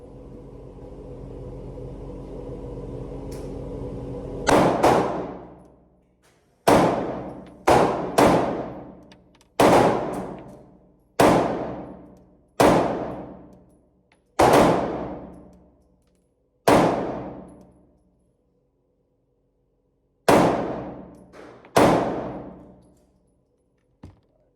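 Eleven sharp Beretta PX4 full-size pistol shots are fired at a target at uneven intervals, each loud crack ringing out and fading, after a few seconds of low background rumble.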